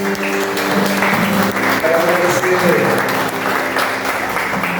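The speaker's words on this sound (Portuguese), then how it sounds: "aplauda o Senhor em nome de Jesus" A church congregation applauding during a worship service held in a garage, continuous loud clapping from many people throughout, with a voice and some singing tones rising over the applause.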